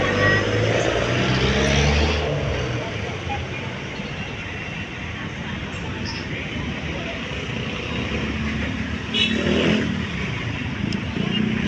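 A car's engine hums and its tyres roar on the road during the drive home from a shopping trip, a steady broadband rumble close by with only slight swells.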